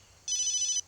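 A mobile phone ringtone sounds once, a bright electronic trill of pulsing tones lasting under a second, close and clear over a quiet background.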